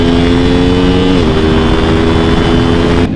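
A 2024 Yamaha R7 parallel-twin motorcycle engine holds a loud, steady idle-like drone close by, its pitch dipping slightly partway through before settling, with no talk over it.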